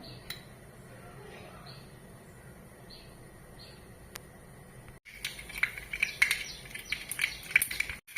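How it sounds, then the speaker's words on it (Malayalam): Mustard seeds popping in hot coconut oil while tempering for a tapioca and ground coconut dish, with quiet ambience first and then a steady run of small crackling pops over the last few seconds. "കടുക് പൊട്ടി വന്നിട്ടുണ്ട്"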